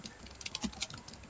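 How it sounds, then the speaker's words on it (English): Typing on a computer keyboard while entering a Python program, with a quick patter of close, moderately loud key clicks in an uneven rhythm and no talk over it. "First I am writing hash, typing hash"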